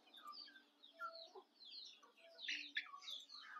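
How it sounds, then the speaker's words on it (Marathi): A Plymouth Rock hen, a breed kept for both eggs and meat, gives faint, soft clucks amid steady high chirping from other birds nearby. "हे बघा ही कोंबडी आहे"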